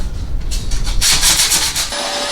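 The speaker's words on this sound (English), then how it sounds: "there's still a couple little areas that we're gonna go back and sand a little bit more with the 120" Close, loud rhythmic rubbing of 120 grit sandpaper on wood door trim, quick back-and-forth strokes ending in a steadier scratch.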